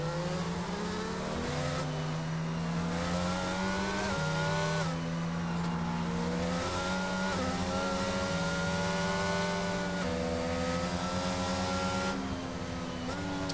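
Racing cars speed around a circuit in a video game, engines whining and shifting pitch continuously as they pass, with a Mercedes safety car on track; the engine noise is steady and dense from start to end.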